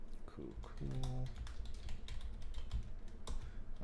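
Quick, fairly quiet clicking of computer keyboard keys while writing code for a longest palindromic substring solution, with a low voice and background murmur underneath.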